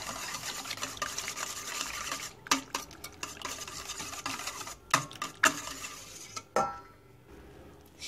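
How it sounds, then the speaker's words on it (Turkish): A spoon stirs fresh yeast into a dough mixture in a bowl for soft potato puff pastries, giving a steady close scraping and swishing with a few louder knocks against the bowl, no talking. "Mayayla da güzel karıştıralım."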